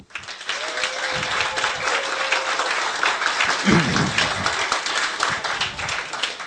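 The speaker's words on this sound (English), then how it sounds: "can I get some applause for all the gay people here?" A comedy club crowd at a live stand-up show breaks into sustained applause, dense clapping filling the room at a steady level, with a few cheers and voices scattered through it.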